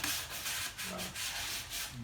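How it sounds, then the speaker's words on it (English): Bondo body filler being sanded by hand on a homemade Christmas sleigh prop, a close, rhythmic rasping scrub in repeated strokes with brief pauses between them. "I'm just finishing up the sanding on it"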